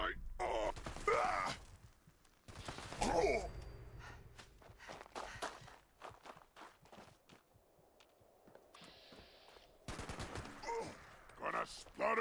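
Gunfire in Fallout 76, a mix of bursts and single shots with gaps between them, some loud and close and others quieter, alongside footsteps and a groaning voice.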